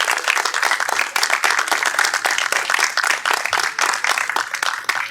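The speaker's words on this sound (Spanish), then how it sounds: "Den un fuerte aplauso al Señor." Church congregation applauding, a dense, steady burst of many hands clapping at once, loud and sustained for several seconds with no talk over it.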